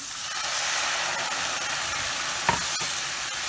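Marsala wine poured over seared mushrooms in a hot pan sizzles with a steady, loud hiss, broken by a sharp clink near the end.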